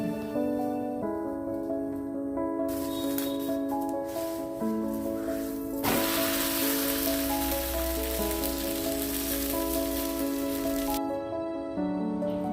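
Banana flower rotti frying in oil on a hot griddle gives a steady, rain-like sizzle that swells loudest midway, playing under continuous background music.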